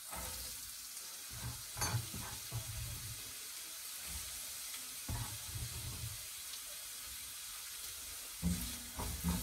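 Onions hit a pan of frying ginger and garlic, setting off a low, continuous sizzle broken by scrapes and knocks of stirring. The sound is quiet and close, with no one talking.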